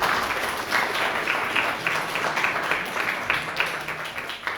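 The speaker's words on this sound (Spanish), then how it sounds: "Gracias a todos y un aplauso por favor a los" An audience at an inaugural panel discussion applauds the speakers, steady dense clapping throughout at moderate loudness, with no voices over it.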